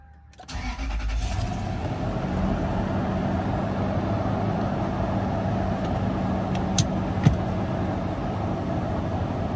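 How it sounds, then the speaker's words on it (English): A Toyota 2UZ V8 engine cranks briefly and catches, then settles into a steady, even idle that runs on close and continuous, with a couple of small clicks later. "Now go ahead and start the vehicle. Let the fuel pump prime."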